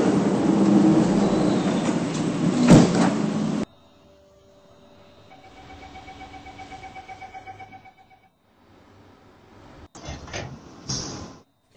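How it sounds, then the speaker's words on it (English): Train doors sliding closed on a metro line, a loud rush of carriage noise that cuts off, then a faint chime-like warning tone and a brief sliding thump as the doors shut. "Doors are closing."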